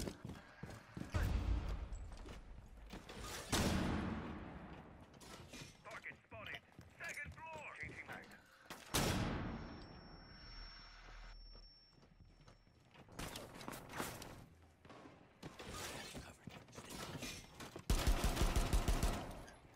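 Rainbow Six Siege gunfire: several loud broadband bursts of shots, including a long sustained volley near the end, mixed with game clatter and voices talking throughout.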